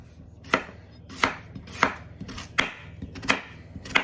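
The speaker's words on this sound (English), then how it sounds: "Just gonna cut these red potatoes up in little tiny pieces." Red potatoes being cut into small pieces with a knife on a cutting board, six sharp, evenly spaced chops close to the microphone with quiet pauses between them and no talking.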